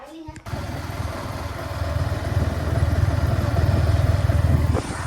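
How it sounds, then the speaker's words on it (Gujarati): A Yamaha R15 V4 motorcycle engine starts up after a brief bump, then settles into a close, steady idle that grows slightly louder and runs on for several seconds. "બાઇક પછી ચાલુ કરવું પડશે."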